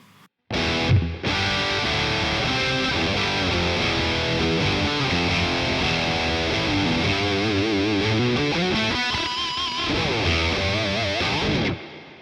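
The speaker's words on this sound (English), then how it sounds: "Have a look at our reverb, try the plate." Electric guitar played through a BOSS Katana 50 MKII amp with plate reverb, sustained distorted chords and a run of single notes ringing out, then a held note cut off sharply at the end; no talking.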